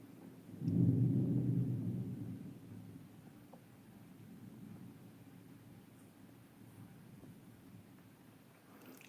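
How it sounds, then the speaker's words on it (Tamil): A deep roll of thunder ahead of a storm swells quickly, rumbles for a couple of seconds and fades into a low, steady outdoor hiss, with no voices. "மானம் இடி அடிச்சிட்ருக்கு அடுத்த புயல் உருவாயிடுச்சு"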